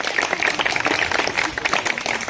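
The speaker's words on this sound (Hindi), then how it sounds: "तालियों में कमी नहीं रहनी चाहिए," Audience applause for prize winners at an Independence Day school function, a steady dense patter of clapping held at an even level, with no voices over it.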